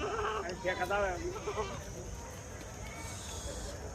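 A goat bleats a few times near the start at a livestock market in Chalisgaon, wavering calls that fade into a quiet, murmuring background.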